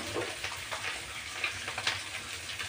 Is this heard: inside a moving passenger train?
no